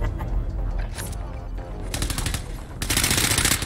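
Rapid automatic gunfire crackles in a shooter video game, several quick bursts building to a dense, loud volley near the end, with no talk over it.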